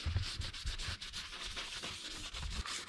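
A cloth wipes down an Arrma Kraton 6S EXB V4 RC car chassis sprayed with label remover to lift duct tape adhesive residue, giving a steady close rubbing and scrubbing sound in repeated strokes.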